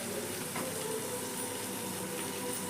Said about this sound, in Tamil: கருவாடு நல்லா வதங்கிடுச்சு.